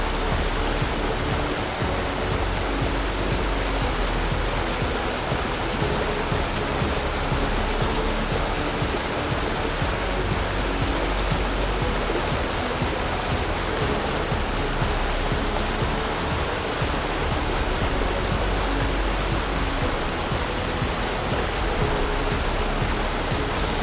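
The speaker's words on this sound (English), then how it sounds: "Finally got to Karuru Waterfall, the tallest waterfall in the country." Karuru Waterfall in Aberdare National Park, the tallest in the country and dropping in three steps, roars as a steady, dense wash of falling water, loud and unbroken with no voices.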